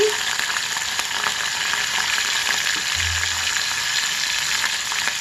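Garlic and green chillies fry in a hot pan with a loud, steady sizzle that runs unbroken throughout, and stirring is faintly heard over it.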